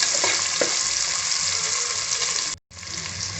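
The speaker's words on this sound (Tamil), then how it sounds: "வெங்காயம் நல்லா பொன்னிறமாக வதங்கணும்." Onions fry in a pan until golden for egg biryani, a loud, continuous close-up sizzle with faint stirring knocks, briefly dropping out for a split second before resuming.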